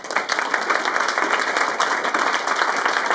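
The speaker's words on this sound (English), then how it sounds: "I want you to give a hand of applause for all the people that have worked so hard to put this all together" A conference audience at an international theosophy conference opening gives loud, sustained applause for the organizers, many hands clapping close and dense throughout.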